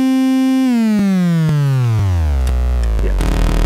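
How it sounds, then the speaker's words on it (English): Four synthesizer waveforms, sine, sawtooth, triangle and pulse, mixed together in VCV Rack, as a steady bright harmonic tone whose pitch glides downward over a few seconds and then turns into a dense, noisy buzz, loud and alone. "you hear the sine wave, the sawtooth, the triangle, and the pulse"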